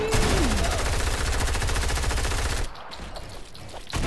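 Rapid automatic gunfire in the Fortnite video game, a loud sustained burst of fast repeating shots that cuts off abruptly, followed by quieter scattered game sounds.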